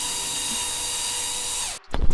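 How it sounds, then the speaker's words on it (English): A power drill drives screws into a three-piece front lip on a 2018+ Subaru WRX bumper: a steady high-pitched motor whine runs close and loud for nearly two seconds, then cuts off, followed by a brief rattling clatter. "I am screwing in the screws onto the bumper, but I'm not tightening them all the way."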